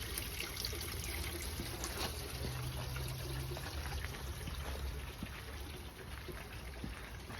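Water trickles and splashes steadily into a stone hand-washing basin at Shimogamo Shrine in Kyoto, a continuous soft outdoor flow with faint ambient background and no voices.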